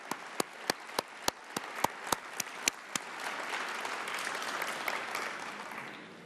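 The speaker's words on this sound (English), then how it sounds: "A big round of applause for the shareholders." Audience applause at a plenary session of annual meetings, opening with a few distinct single claps in a sparse rhythm that swell into a softer, continuous patter of many hands, heard fairly faint with no talk.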